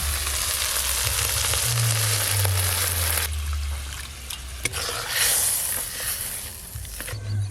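Fish curry spices sizzle and hiss loudly in a pan as water is poured in, a steady close frying wash that eases off midway and then surges again, with no talk over it.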